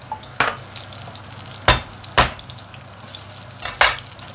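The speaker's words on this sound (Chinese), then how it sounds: "拍咗葱頭，掉埋落去，爆香咗啲料頭先，到蒜頭" Shallots and garlic stir-fry in a wok, a continuous sizzle broken by several loud, sharp spatula scrapes spaced irregularly, close and without talk.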